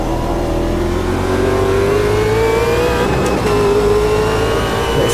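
A Super V8 race car engine in Automobilista 2 at Guapore revs hard and climbs steadily in pitch, loud and close, with a brief lift and shift near the middle before pulling again.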